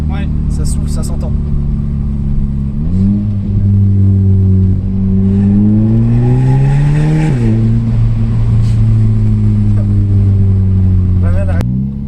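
An Audi Quattro stage 1 tuned to 230 hp, with a freed exhaust, drones steadily from inside the cabin and rises in pitch as it accelerates, then settles. The engine is loud and continuous, and people talk over it.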